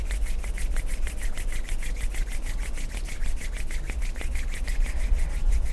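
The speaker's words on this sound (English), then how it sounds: "Join your palms together and rub your palms together." Palms are pressed together and rubbed back and forth at a steady pace during a hatha yoga session. The close, dry swishing repeats rhythmically, with no talking.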